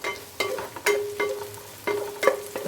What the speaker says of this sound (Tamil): இப்போது ஒரு பச்சை மிளகாய் 3 நீல வாக்கில் கட் பண்ணி இதில் ஆட் பண்ணி வதக்குறோம்